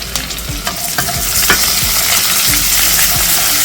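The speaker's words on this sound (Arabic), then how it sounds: "هنبدا بقى كده في الوضع ده هننزل البصل" Onions frying in a pan after nuts were browned in it, a loud, close sizzle with rhythmic stirring scrapes and spoon knocks throughout and no speech.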